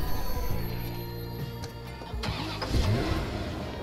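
A car engine in the Watch Dogs video game cranks and catches, then settles into a mid-pitched running rumble, fairly close and loud with game ambience around it.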